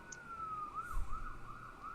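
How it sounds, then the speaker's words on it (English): Emergency vehicle sirens wail somewhere in a neighborhood outside, a single fairly faint rising and falling tone heard from a distance, with a low rumble of traffic underneath. "See, we're throwing it back to Chicago here with the sirens over there in the neighborhood."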